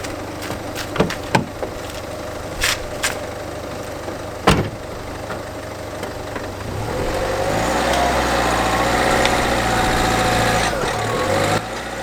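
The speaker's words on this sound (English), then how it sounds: "That should just allow us now to drive the car up the ramps." A Ford Fiesta engine idles with a few clunks and knocks, then rises into a steady, louder running drone as the car is driven up onto ramps, close by.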